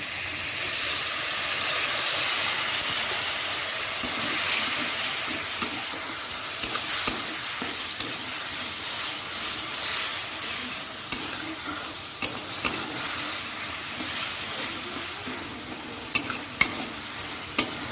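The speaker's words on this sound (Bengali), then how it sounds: "আমি জল দিয়ে দেবো" Water poured into a hot pan while cooking a Bengali egg paturi in pumpkin leaves: a loud, steady steaming hiss and sizzle lasts throughout, with a few small pops and clicks near the end.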